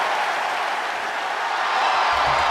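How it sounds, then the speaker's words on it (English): Packed wrestling arena crowd in Dallas, Texas, cheering and applauding in a steady, loud wash of noise that swells slightly near the end. "And the crowd here in Dallas, Texas are hyped."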